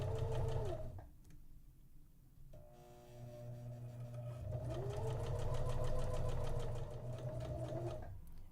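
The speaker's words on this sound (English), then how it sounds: "we will take it over to the sewing machine" A sewing machine stitching rickrack trim onto fabric, its motor whirring in fast rhythmic bursts, stopping briefly then running again, close and fairly quiet.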